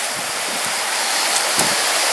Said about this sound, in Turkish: Çaylak Şelalemize ulaştık aşkım